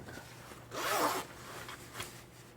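A zipper on a Fjällräven pants vent runs open and shut, with a long rasping pull in the middle and shorter zips around it, close and clear.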